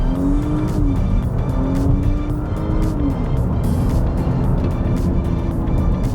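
A powerful SUV accelerating hard in sport mode from a stock-ECU setup, with a steady loud engine roar and rising tone that dips and climbs again as it pulls through gears, no talk over it.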